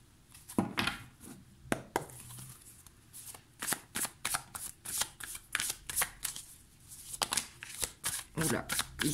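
Oracle cards being shuffled by hand, a loose run of quick papery slaps and riffles in uneven bursts, fairly close and moderately quiet, with no speech over them.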